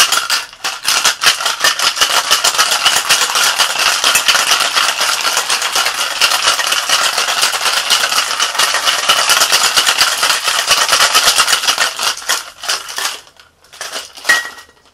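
Vigorous, continuous rattling of ice in a metal cocktail shaker while a cognac sour is mixed, loud and close, sustained for about twelve seconds before tapering off into a few final knocks.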